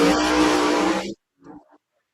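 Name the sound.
drag racing cars, including a 1956 Pontiac Chieftain wagon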